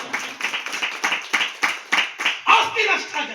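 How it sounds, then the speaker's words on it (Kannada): Rhythmic clapping from a church congregation, roughly a dozen sharp, even claps in steady succession, fairly close and loud. "ಭಕ್ತ ಚಪ್ಪಾಳೆ ತಟ್ಟಬೇಕು"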